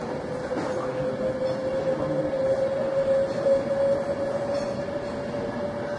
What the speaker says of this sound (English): That's the train that we were on from London.